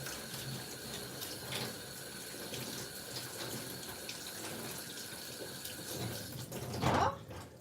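Tap water runs steadily over soba noodles being rinsed in a kitchen sink, a continuous moderate splashing stream with a brief louder surge near the end.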